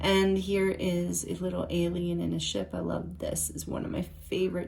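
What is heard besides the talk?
No everyday noise stands out behind the speech.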